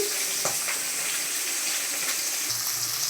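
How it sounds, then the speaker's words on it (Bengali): Pomfret (rupchanda) fish frying in oil in a pan, giving a steady, even sizzle throughout with a couple of faint clinks, and no talking. "এইদিকে আবার মাছটা বসিয়ে দিয়েছি ভাজা।"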